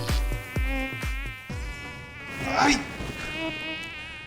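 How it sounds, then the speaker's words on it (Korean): High, thin whine of a mosquito buzzing steadily in a room at night, continuous and fairly close, with a few dull thumps and a short rustle partway through. "잠들만 하면 앵앵 짜증나는 모기"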